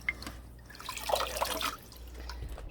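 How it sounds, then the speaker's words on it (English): A black aquarium filter sponge from a Cascade filter dipped and squeezed in water gives brief, faint sloshing and trickling with a few drips, busiest in the middle second. "I usually give it a good dip and squish in the water too."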